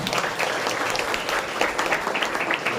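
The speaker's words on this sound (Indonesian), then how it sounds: "Oke, tepuk tangan untuk kalian semua." An audience applauds at a student candidate debate for school council, steady mid-level clapping from many hands sustained throughout, with a faint murmur of voices underneath.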